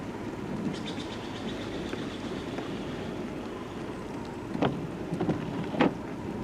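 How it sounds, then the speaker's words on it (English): Steady rain hisses throughout, with a few louder drops or taps standing out near the end. "Currently raining,"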